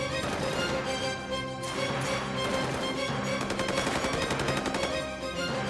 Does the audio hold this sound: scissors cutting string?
no